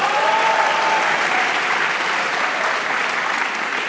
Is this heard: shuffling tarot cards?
no